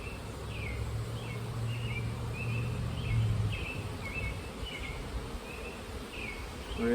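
Dense, steady buzzing of many honey bees in a hive, with bird chirps faint in the background.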